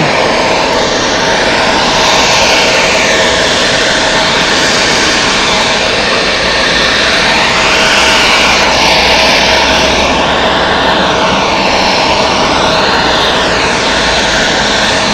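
Airliner jet engines roar steadily and loudly at Zurich Airport, a continuous broad rumble and whine that swells gradually as an aircraft powers up, with no voices over it.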